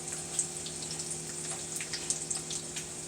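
Wet bacon sizzles steadily in a pan, with scattered small pops and crackles over a constant hiss, close and fairly quiet.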